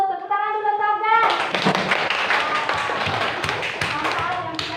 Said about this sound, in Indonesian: Tepuk tangan dulu untuk Afgan.